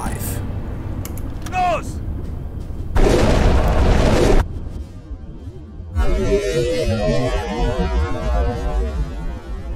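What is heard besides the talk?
torpedo launched from tube 5 in video game UBoat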